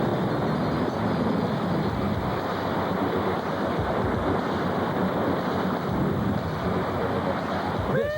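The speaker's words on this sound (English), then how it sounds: "a daredevil kayaker who gets pummeled in the rough water" Rough whitewater churns around a stunt kayaker, a steady loud rush of surging water and wind buffeting the microphone, with no voices.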